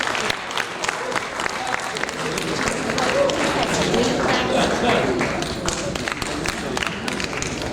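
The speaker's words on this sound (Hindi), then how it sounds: "एक बार तालियों के साथ युक्तार्थ का अभिनंदन।" Audience applause fills an annual day award ceremony as an honoree comes to the stage, steady and dense clapping throughout, with a voice speaking over the crowd.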